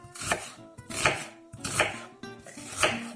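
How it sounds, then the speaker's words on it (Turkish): Four firm knife chops on a cutting board, evenly spaced, close and crisp with no talking, roughly chopping vegetables for beetroot soup. "sırayla malzemelerimizi doğrayarak kabımıza alalım"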